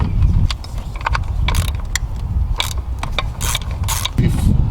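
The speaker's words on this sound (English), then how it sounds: "There are also 2 10mm bolts that you need to loosen and remove." Ratchet clicking while loosening 10mm bolts on a Toyota/Lexus 3.0L V6 (1MZ-FE) engine during valve cover gasket work, with close, repeated mechanical clicks and bursts of metallic ratcheting over a steady low rumble.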